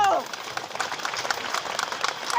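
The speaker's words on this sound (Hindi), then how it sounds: "एक बार इनके लिए ताली बजाओ।" Audience clapping at a live Bageshwar Dham divya darbar religious gathering, a dense, steady patter of many hands at moderate loudness that runs for the whole stretch.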